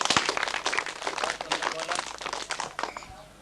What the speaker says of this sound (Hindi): चलो बहुत अच्छी बात है, तालियां बजाइए।